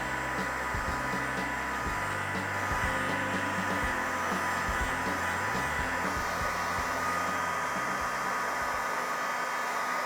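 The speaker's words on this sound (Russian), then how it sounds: "беру строительный фен и начинаю прогревать венецианку," A steady, loud blowing roar from a heat gun warming Venetian plaster runs continuously throughout, with occasional low knocks and scraping underneath.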